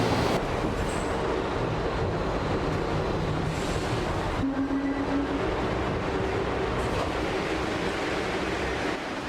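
Steady loud rumble and rattling roar from inside a New York City subway car riding through Washington Heights in Manhattan, continuous throughout with a brief squealing tone midway and no talk.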